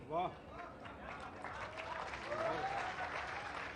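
An audience applauds at an outdoor poetry recital in Jalore, a dense, sustained wash of clapping from a large crowd that swells slightly toward the end, with a voice speaking over it at the start.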